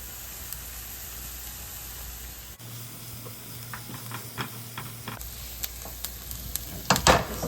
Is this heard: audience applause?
no